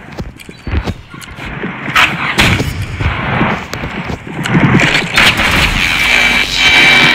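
Bursts of gunfire from a shotgun-type weapon in the Roblox Rivals video game, loud, uneven shots mixed with other busy game effects.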